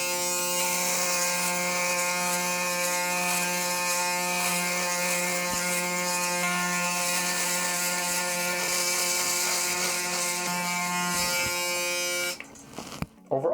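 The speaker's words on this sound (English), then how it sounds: "So what we do now is we'll shave and see how well it works." Braun Series 9 9295cc electric shaver buzzing steadily and loudly close up as it shaves, a dense mechanical hum with a raspy ratcheting edge, cutting off abruptly near the end.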